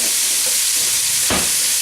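Chopped carrots, onion and celery sizzle loudly in oil in a pot, a dense constant hiss with a single sharp scrape of a spoon across the bottom near the end.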